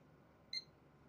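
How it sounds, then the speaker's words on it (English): A single short electronic POST beep from a desktop PC rebooting during an SSD repair, a brief clean tone standing out alone over a quiet background hum. "another single beep, so it's rebooted."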